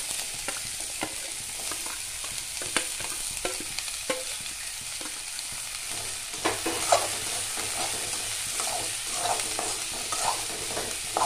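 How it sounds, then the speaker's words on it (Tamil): Chopped chayote (chow chow) is stirred in a frying pan for a Tamil poriyal, with a steady soft sizzle and repeated scraping clicks of the spatula throughout, close and moderately loud. "இதை லேசாக இப்படி பரட்டி விட்டுட்டு"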